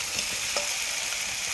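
Cauliflower and potato pieces fry in oily spice masala with a short burst of close, steady sizzling hiss and a faint light clink partway through.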